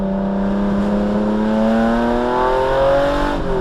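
A classic Lamborghini Countach or Ferrari Testarossa engine revs upward in one long, loud, rising howl, then drops sharply near the end, heard close and alone.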